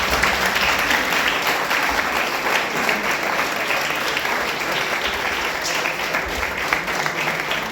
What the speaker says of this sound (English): Let's give a big round of applause for ourselves.